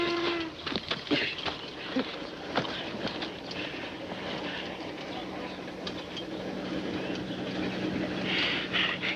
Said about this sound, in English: Federal offense, stopping a mail train.